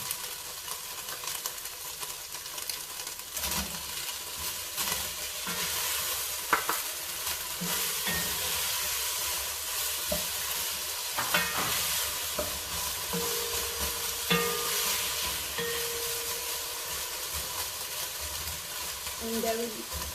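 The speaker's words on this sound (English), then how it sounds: "I will just let the tomatoes cook down for 2 minutes" Tomatoes with salt cooking down in a pan, giving a continuous sizzling and frying hiss broken by irregular stirring clinks and scrapes, fairly close and steady throughout.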